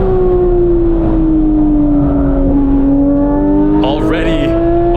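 A 2018 Porsche 911 GT3 (991.2) flat-six drones loudly and steadily at high revs on a racetrack after a downshift, its pitch dipping then climbing, with a brief tire squeal near the end, heard from inside the car.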